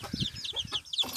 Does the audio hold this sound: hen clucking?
yes